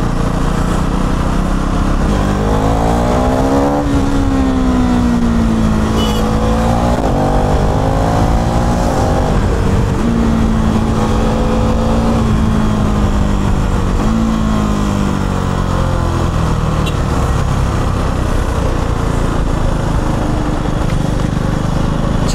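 KTM Duke 390 gen 3 motorcycle engine droning steadily while riding through traffic, pitch rising and falling with throttle changes over constant wind rumble, loud and continuous throughout.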